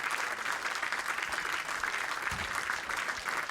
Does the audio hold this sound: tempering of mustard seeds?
no